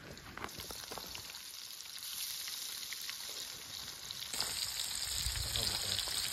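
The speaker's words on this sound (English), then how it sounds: "It sizzling pretty good here." Crappie fish fry in batter in a pan over a campfire, a steady close crackling sizzle that runs throughout and grows slightly louder near the end, with no voices.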